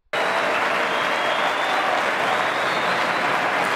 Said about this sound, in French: Cet acte de bienfaisance de la femme numéro 1 du Lualaba était accueilli par une pluie d'applaudissements et des cris de joie